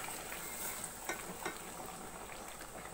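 Spice masala for Chittagong-style Mezbani beef curry fries in oil with the beef, a faint, steady sizzle with a few soft crackles and pops.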